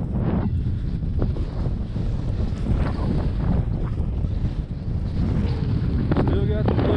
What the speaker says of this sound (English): Still got the blizzard going.